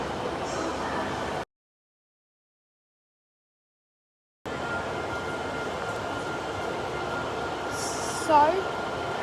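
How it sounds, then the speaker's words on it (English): Steady rumbling run of a Class 150 diesel train in Cornwall, heard from inside as a continuous low drone broken by a stretch of total silence, with a brief high squeal near the end. "So, we're ticking off another class train, class 150 this time."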